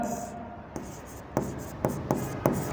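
A pen writes figures on paper in a quiet room, faint scratching strokes with a few distinct taps and ticks as numbers are marked, close and soft.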